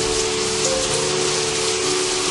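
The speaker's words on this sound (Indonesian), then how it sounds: "Ketika hujan lebat turun" Heavy rain pours down in a dense, loud, unbroken hiss of drops striking surfaces, steady throughout with no voices.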